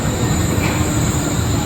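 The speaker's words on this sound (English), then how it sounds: "Our train is about to arrive." A Wuppertal suspension railway train arrives with a loud, continuous rumble and faint wheel squeal, close by and steady the whole time, with no talking.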